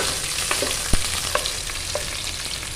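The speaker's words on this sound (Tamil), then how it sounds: "சின்ன வெங்காயம் ஒரு பத்து பதினஞ்சு வெங்காயம் போட்டு கருவேப்பிலை நல்லா போட்டுக்கலாம்" Small shallots and curry leaves frying in oil with mustard seeds for brinjal kuzhambu make a loud, dense sizzle, close up, with a few spoon scrapes and one sharp knock partway through; nobody speaks.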